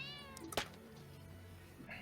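A cat meows once in a cat island video game, a single drawn-out, rising and falling cry over a quiet electronic hum, close and clear.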